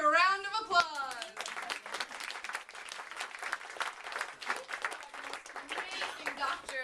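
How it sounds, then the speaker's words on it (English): A round of applause follows a harmonized sung or voiced phrase, then steady clapping from a small crowd continues evenly throughout. "Let's give this brave girl whose life we've saved a round of applause."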